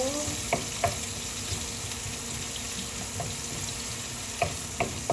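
Bihon noodles fry in a pan for an afternoon snack, a steady close sizzle with occasional scrape and tap of a utensil stirring through them.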